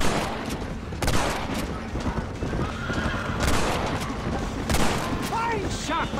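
Gunshots in the Western video game Red Dead Redemption, several sharp cracks spread across a busy scene with horses whinnying and hooves clopping throughout.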